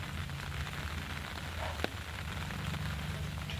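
Rain falling during a heavy downpour on garden plants and small chrysanthemum flowers, a steady hissing wash with a faint low rumble underneath and one brief tap, no voices.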